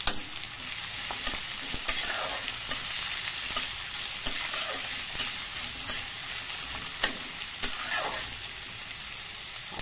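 Two medium onions frying in hot oil with cumin seeds, sizzling steadily with occasional stirring clatters from a spoon in the pan.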